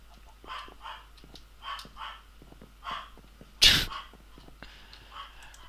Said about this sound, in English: I wonder what dog's barking at.